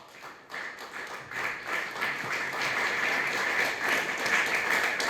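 Audience applause at a Hindi motivational business seminar, sustained clapping that swells after a quiet start and stays fairly steady and moderately loud throughout.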